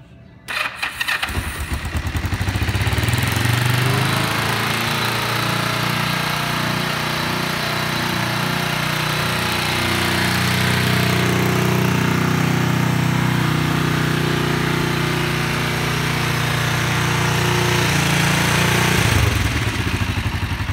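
A 2005 Kawasaki Vulcan 500 (EN500) cruiser motorcycle cranks and fires up, then settles into a loud, steady, close-up engine run that holds for about twenty seconds.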